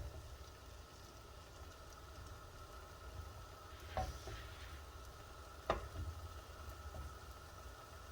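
Buttermilk cornbread patties frying in oil in a pan set a little above medium heat, a steady low sizzle with two brief clicks of utensils, no talking.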